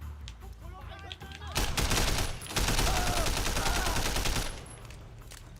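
Rapid bursts of gunfire in the video game Sleeping Dogs, loud sustained volleys of shots over about three seconds with a brief gap between, close and dominant.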